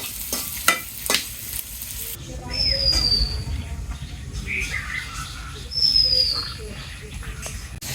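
Fish fries in hot oil with a steady crackling sizzle, joined by occasional stirring scrapes and a few faint squeaky tones over a busy background.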